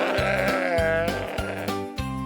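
A sheep gives several close, quavering bleats in quick succession, loud and clear, with brief gaps between calls and no voices.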